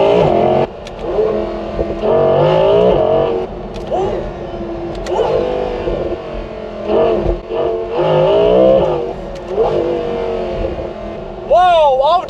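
An Audi R8 V10 Performance driven hard on B roads, its engine revving up and down through gear changes in loud, rising howls heard from inside the cabin, with someone talking over it.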